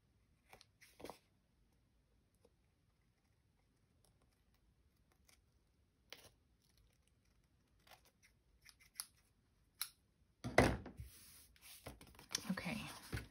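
Scissors trimming a paper envelope, heard as quiet, sparse snips and paper rustles close by, then a louder burst of cutting and handling near the end, with faint whispery speech.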